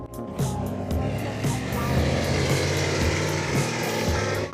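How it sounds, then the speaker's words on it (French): A car with a wrecked, broken exhaust rumbles loudly and steadily up close, its low, rough engine drone continuous with a few pulsing surges, no talking. "C'est le bruit d'un pot d'échappement foutu."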